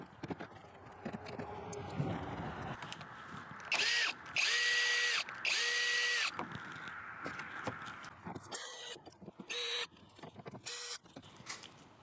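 Power drill backing Phillips head screws out of a Mazda CX-5 grille damaged in a deer crash, with several short, loud bursts of whirring spaced apart amid clicks and handling noise.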